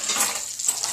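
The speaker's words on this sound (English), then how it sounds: "the veal brain pieces are frying up" Pieces of breaded veal brain fry in a pan, a close, bright continuous sizzle with a soft stirring shift partway through the single second.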